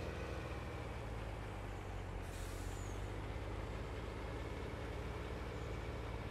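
A truck in Farming Simulator 19 hauling large round bales drives with a steady low engine drone, and a brief hiss like an air brake release cuts in partway through.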